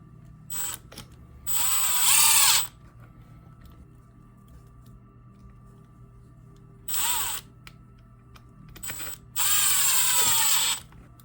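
A power tool bolts down a servo on a Kraton 6S EXB RC truck, sounding in four separate whirring bursts. Two of the bursts are long and loud and two are short, with quiet gaps between them.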